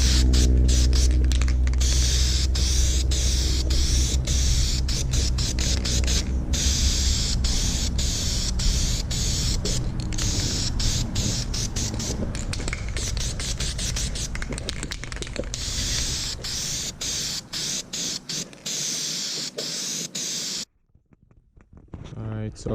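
Rattle-can black spray paint going onto the chrome and plastic trim of a Chevy Avalanche: repeated close hissing bursts over a low hum, then a brief quiet gap near the end.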